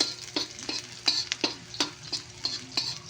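Onions fry in a pan, their soft sizzle broken by regular scraping strokes of a utensil, about one stir every half second, close up and fairly quiet.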